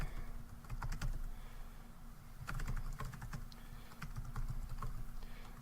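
Sign-up details being typed on a computer keyboard, in quick bursts of close, crisp key clicks separated by short pauses, with no talk.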